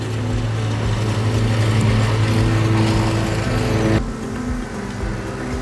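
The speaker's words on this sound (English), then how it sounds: "It's still covered this whole field, even though there's a lawnmower going on there." A lawnmower drones steadily in an open field, a loud continuous engine hum with a strong low tone that drops in level partway through and keeps running.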